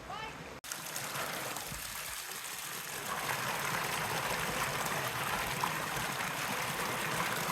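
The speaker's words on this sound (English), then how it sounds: "you pass this river several times. The stream. Beautiful." A mountain stream beside a hiking trail near Fraser, Colorado rushes steadily and close, a dense continuous wash of flowing water that grows slightly louder partway through.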